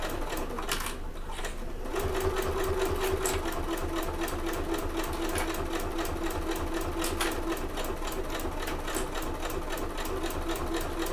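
A sewing machine stitches steadily while sewing an Adventure Bag, its fast even needle chatter running continuously and close, including a few quick reverse stitches, with no talking.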